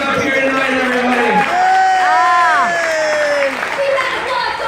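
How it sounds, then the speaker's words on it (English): Crowd cheering and clapping for players at a Double Dare game show taping, with voices whooping and calling over sustained applause. "Let's give another huge round of applause for our players out here tonight, everybody."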